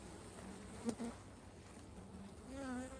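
Honeybees from a caught swarm buzz quietly and steadily at their hive in October, with a brief closer buzz passing by and a soft droning hum throughout.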